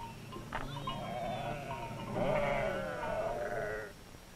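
A sheep bleats several times with wavering, drawn-out cries on dry Navajo grazing land, faint and somewhat distant over a low background hum.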